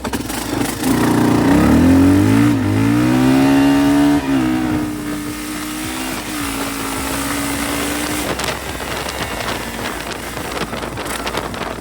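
A motorcycle fitted with performance mods runs steadily, its engine note rising and falling through a few revs before settling, loud and close with heavy wind buffeting over the microphone.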